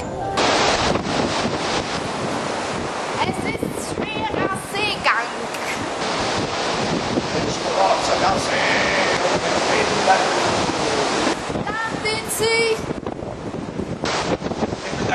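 Rough sea waves and wind on a boat voyage across choppy water toward Dubrovnik: a loud, continuous rushing surge with heavy wind buffeting, and faint voices now and then beneath it.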